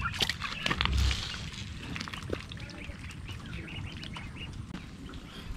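A group of farm ducks drinking, with scattered quacks and soft chirps amid shuffling and light footsteps, heard close by under a continuous low outdoor rumble.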